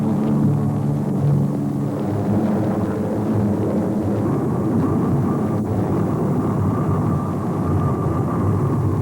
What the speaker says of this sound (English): as we taxi to this berth, we pass just part of a day's production waiting to be tested by Ford pilots